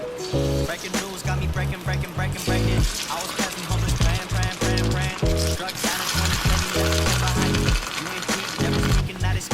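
Plantain slices sizzle and crackle loudly in a frying pan while a home cook browns them well for stewing, the frying running steadily throughout alongside bursts of clattering and stirring.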